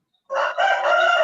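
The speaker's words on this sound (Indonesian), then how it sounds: "Siapa ayam itu?" A rooster crows once, loud and close, a single sustained call starting after a brief silence, with a short break partway through.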